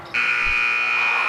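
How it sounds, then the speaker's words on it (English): A basketball arena's game buzzer blares to end the first half of a girls' JV game between LHS and Princeton: one loud, steady electronic tone held through the clip over faint crowd noise. "But the buzzer sounds, bringing the first half to a close"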